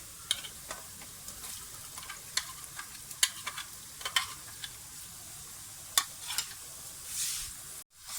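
Onion and chopped tomato frying and being stirred in a pan, a soft steady sizzle broken by scattered sharp crackles and spoon scrapes, quiet and close with no voices.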